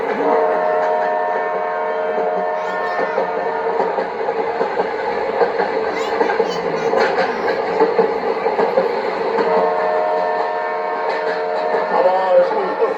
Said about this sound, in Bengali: ঠিক একই সময়ে ডাউন লাইনে এগিয়ে আসে যশবন্তপুর এক্সপ্রেস।